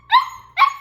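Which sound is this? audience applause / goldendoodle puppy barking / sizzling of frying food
goldendoodle puppy barking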